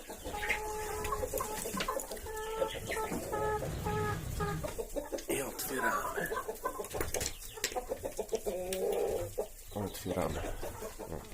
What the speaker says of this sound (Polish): Kurczaczki szaleją.